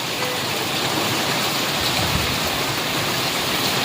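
Heavy rain roars in a dense, steady hiss over a village in Gujarat, pouring continuously without letup and filling the whole scene.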